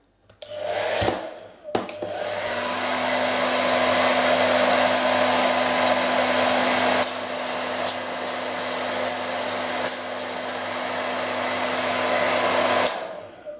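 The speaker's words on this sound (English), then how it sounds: "the tool for the job is your wife's hairdryer." A hair dryer on its highest setting blows moisture off a Kodak Retina IIIc camera rangefinder, a loud steady whoosh with a constant motor hum, switched on after a couple of clicks and running continuously for about eleven seconds.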